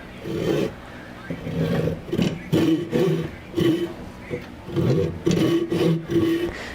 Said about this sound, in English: Okay, back into the vise. Back with the big saw.